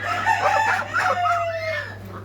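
A farm rooster crows once nearby, a drawn-out cock-a-doodle-doo trailing off, over a steady low hum.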